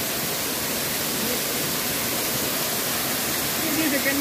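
River flowing on the way to a waterfall, a steady broadband rushing wash filling the moment, close and constant, with voices faintly mixed under the water noise.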